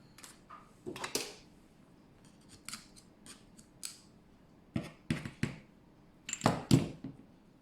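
Scissors snip through excess suede cord on a craft keychain, several crisp close cuts in uneven bursts separated by quiet pauses.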